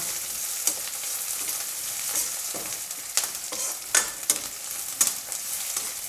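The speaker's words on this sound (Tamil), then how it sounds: "வெங்காயம் வதந்துங்க அடுத்து நம்ம தக்காளி போட்டுடலாம்" Chopped onions with curry leaves sautéing in a pan for a prawn gravy, a steady bright sizzle broken by sharp scraping stirs every second or so, close and continuous with no talking.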